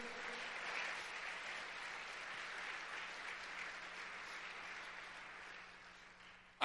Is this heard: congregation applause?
yes